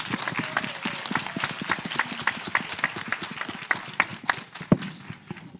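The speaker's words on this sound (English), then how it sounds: "So can we give her a round of applause?" An audience at a school education symposium claps in scattered, uneven rhythm, distinct individual claps rising and falling at moderate volume with no talk over them.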